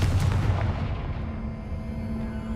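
A Confringo fire spell exploding in Hogwarts Legacy, a loud close boom with a low rumbling tail that decays over a couple of seconds.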